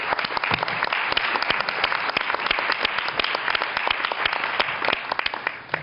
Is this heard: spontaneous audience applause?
yes